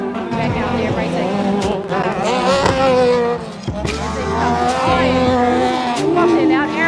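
Race cars slide and wiggle across a track wetted by a water truck during an ORANZ round, engines roaring loud and close with tyre squeal under continuous commentary.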